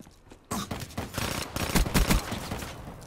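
Rapid bursts of video game gunfire from a player's gun, dense overlapping shots starting abruptly after a brief quiet moment and continuing loud and busy throughout.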